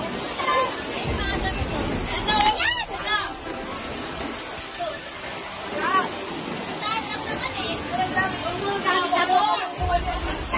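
Strong floodwater current rushes and churns continuously and loudly, with excited voices and shouting from several people over it.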